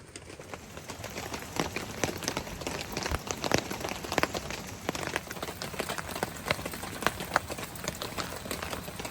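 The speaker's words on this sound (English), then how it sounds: "Fairy slept while I stood outside cooking her dinner in the rain." Steady rain patters on a surface outside a parked van, a dense hiss of drops with sharper individual taps scattered throughout, continuous and fairly close, with no voices.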